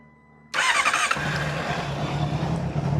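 A Honda CX500 motorcycle engine catching after a brief quiet moment, then running loud and close with a quick throttle blip before settling into a rough, steady idle.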